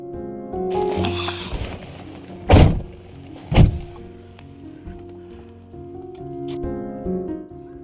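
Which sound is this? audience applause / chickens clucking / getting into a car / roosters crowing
getting into a car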